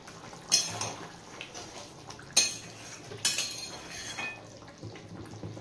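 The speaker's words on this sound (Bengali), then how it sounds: "আবারও ঢাকাটা খুলে দেখে নেব।" A metal pot lid is lifted off a simmering pan of mixed vegetables with cashews, giving a few bright, quiet clinks and rattles spaced out against a soft kitchen background.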